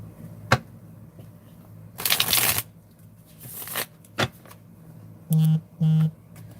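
Tarot cards are shuffled close up in a dense riffling burst, followed by scattered taps, snaps and softer card rustles, with two short tonal hums near the end.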